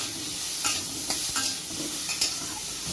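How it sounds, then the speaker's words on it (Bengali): Prawns fry in hot oil with salt and turmeric, giving a steady close sizzle with a few sharper spatters and stirring scrapes scattered through. "চিংড়ি মাছগুলো হালকা করে ভেজে নেবো"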